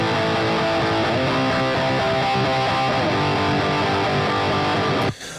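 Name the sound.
metal guitar wall of sound with distortion plugins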